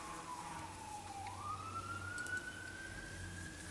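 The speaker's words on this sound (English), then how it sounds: "Ambulance, and I hope everything is okay." An ambulance siren wails as it passes at a distance, a single falling-then-rising tone sweeping across the clip over low traffic rumble, faint and unaccompanied by speech.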